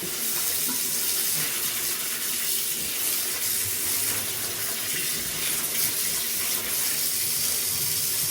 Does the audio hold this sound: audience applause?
no